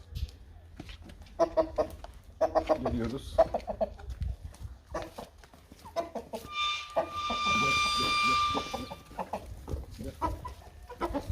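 Hens cluck and squawk in short bursts as barley and corn feed is brought indoors, with a person talking briefly in Turkish over them and a high-pitched whine partway through.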